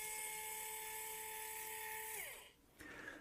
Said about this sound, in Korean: 조용한 이유는 코니컬버를 가지고 있는데 RPM이 굉장히 저속이기 때문에 그렇습니다.